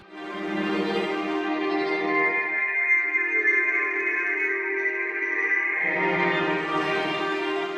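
A sustained chamber string chord from a Kontakt sample library played through a horn speaker cabinet, with a boxy, slightly honky tone, swelling in and holding steadily for several seconds with no voices.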